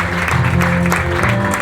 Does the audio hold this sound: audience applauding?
yes